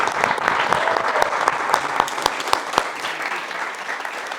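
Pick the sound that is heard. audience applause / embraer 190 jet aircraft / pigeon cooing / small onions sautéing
audience applause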